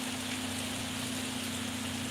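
Steady rain falls in Hawaii as an even, continuous hiss with a constant low hum running beneath it, with no voices present.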